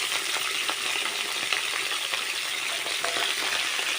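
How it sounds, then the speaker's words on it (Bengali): Potatoes frying in oil, a dense, continuous sizzling hiss with faint crackles, loud and close with no talking. "এবারে আমি তেল দিয়ে আলুগুলো ভেজে নেব"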